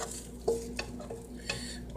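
Cheese, peppers, basil and turkey cook together in a pan with a soft, steady sizzle, broken by a few sharp clinks and scrapes of a utensil stirring, close and quiet, with no speech.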